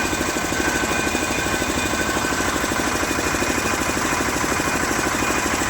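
A fishing boat's loud, steady engine drones and knocks in a constant rhythmic thrum, running without pause at close range.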